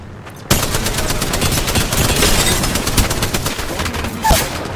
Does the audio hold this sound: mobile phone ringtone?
no